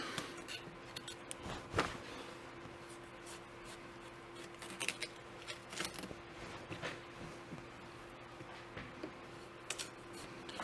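A knife cuts and scrapes into a watermelon as it is carved into an oval shape, giving close, irregular clicks and soft scraping over a low steady background hum, with no talking.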